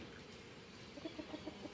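Backyard chickens cluck softly, a short run of about six evenly spaced clucks at a moderate distance, faint over low outdoor background noise, with no talk.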